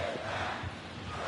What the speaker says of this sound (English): The crowd calling for them to throw it back.